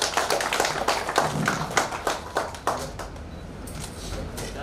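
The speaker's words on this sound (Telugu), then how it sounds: "please claps once" Audience clapping at a school friends' reunion party: a burst of distinct, fairly close hand claps that thins out and fades after about three seconds, with some voices underneath.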